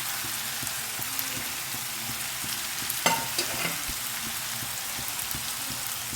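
Potatoes and vegetables fry for pav bhaji in a pan with a steady, close sizzle and crackle, and a brief clatter as more pieces drop in partway through.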